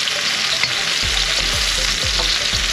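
Onions and garlic frying in leftover chicken oil, a steady loud sizzle throughout, with several dull low thumps of stirring or food dropping into the pan in the second half.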